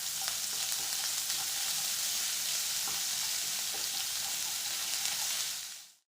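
Asafoetida, cumin, coarsely crushed black pepper, dried coriander and green chili-ginger paste sauté in hot oil for a potato curry, giving a steady, dense, close sizzle with no voices that carries evenly, then cuts off at the end.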